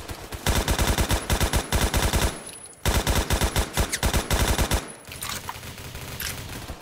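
Rapid bursts of automatic gunfire from a sniper-scoped gun in the Roblox game Phantom Forces, loud and close, in two long volleys separated by a short pause, then quieter scattered shots, with no speech.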